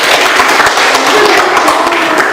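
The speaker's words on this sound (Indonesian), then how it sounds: "Beri tepuk tangan untuk teman kita." Students in a classroom give a classmate a loud, close round of applause, a dense burst of many hands clapping with a few voices underneath.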